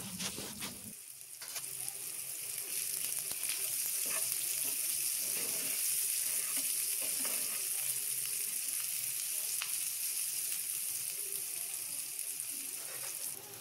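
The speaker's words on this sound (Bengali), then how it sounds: "পেঁয়াজটা হালকা লাল করে ভাজা হয়ে গেল" Steady, loud sizzling of salted onions frying in a pan until lightly browned, a continuous crackling hiss that starts after a brief quieter moment and runs without talk.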